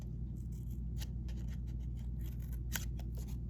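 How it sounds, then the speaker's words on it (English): Scissors snip a small hole in a paper Christmas card, giving a series of quick, crisp cuts in an irregular rhythm, close and fairly quiet against a low background hum. "I'm gonna bend it and just cut like a little hole"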